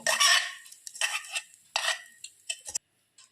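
Mixed-lentil appe batter is stirred after hot tempering is poured in, a spoon scraping and clinking against the bowl in several short, close bursts with a brief silent gap near the end.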